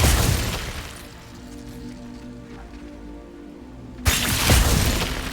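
Glacius ice spell in Hogwarts Legacy: a crackling, rain-like shattering burst, then a tonal fading hum, and a second sharp loud crackle near the end, with no talking.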